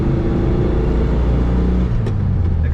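A 1968 Volkswagen Beetle with a 4-speed manual gearbox accelerates, its engine a steady, loud, close rumble that holds throughout without talk.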